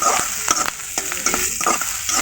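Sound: chopped onions lightly frying, stirred with a spatula

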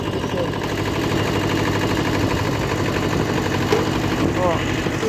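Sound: vehicle engine running in low-range gear

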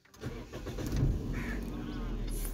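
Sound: Toyota Corolla GLi 2011 engine starting

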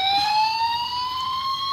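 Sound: toy police car siren

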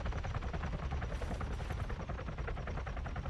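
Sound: helicopter flying in Arma 3 video game

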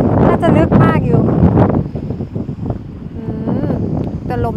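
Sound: strong wind blowing at the shore

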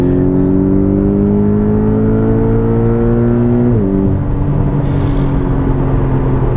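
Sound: Porsche 718 Boxster GTS engine revving and accelerating

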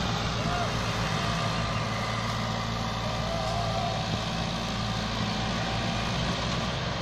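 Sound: Massey Ferguson tractor engine pulling sugarcane trolley

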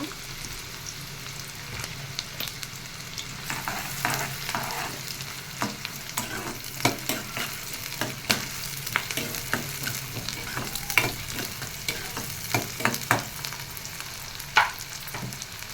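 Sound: onions frying in hot oil for chicken curry

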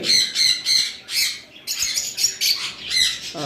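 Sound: caged finches squawking

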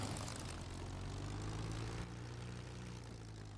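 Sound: P-51 Mustang propeller engine taxiing in DCS video game

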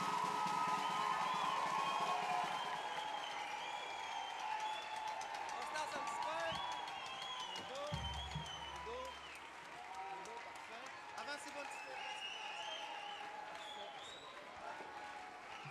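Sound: audience applauding the students

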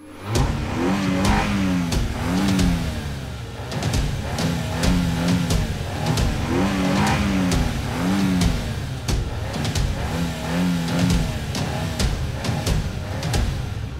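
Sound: race car engines revving in a video game race

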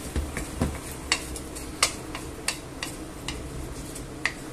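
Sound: stirring rice and ingredients in a pan

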